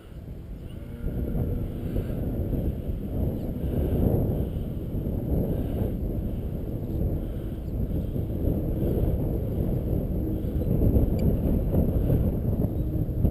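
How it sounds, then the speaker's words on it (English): Gusty wind roars over open water and buffets the microphone with a loud, continuous low rumble that swells and eases without a break. "It's amazing how much the wind affects it."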